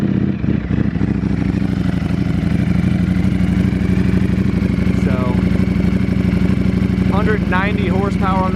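A sport motorcycle with a full titanium Campisi exhaust runs nearby, a steady rumbling engine note with a few sharper revs, while a person talks over it.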